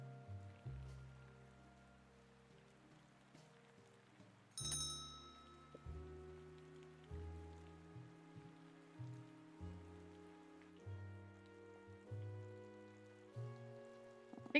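Looping rain plays in the video game Wyrmhall, a soft steady patter blended with gentle tonal game music and periodic swells, faint and continuous throughout.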